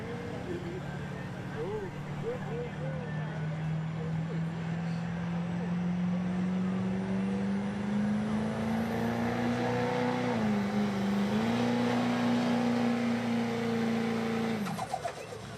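A 2003 Chevy diesel truck strains against a sled at a truck and tractor pull, its engine droning loud and steady with pitch rising slowly across the run, a brief dip near the end, then cutting off, crowd noise beneath.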